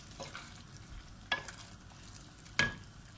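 Green chilies dropped into a pan of mung bean and potato pulao, heard as faint sizzling with two sharp clinking stirring strokes of a utensil against the pot.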